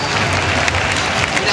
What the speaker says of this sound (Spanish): Mira, palmas.